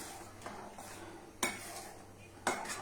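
Something is stirred in a pot with a utensil to mix it with milk in a home kitchen, producing soft scraping and a couple of clinking knocks against the pan, faint and close.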